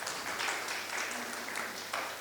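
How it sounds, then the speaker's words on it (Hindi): A church congregation applauding together, a dense, steady wash of hand clapping from a crowd in a hall, moderately loud and continuous for a couple of seconds. "अपने लिए एक बार तालियां बजाइए"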